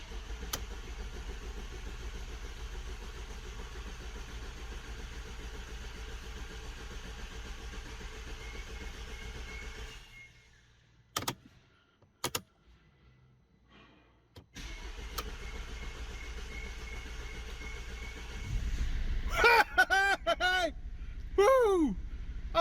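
A Mercedes W212 engine, just back together after a timing chain replacement, runs at idle, then goes quiet while a few clicks sound. It cranks again and starts with a rising whir, and an excited voice speaks over it.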